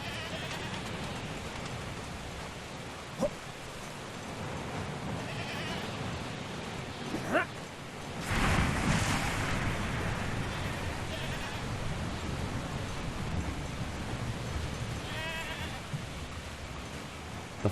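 A goat bleats a few times in the game Mundaun, the calls faint against a steady wash of rain-like ambient noise, with one louder burst of noise partway through.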